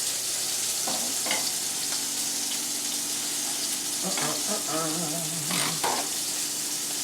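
Cherry balsamic glaze cooks in a pan over low heat, giving a steady soft sizzle with occasional stirring scrapes and a few faint clinks, continuous throughout.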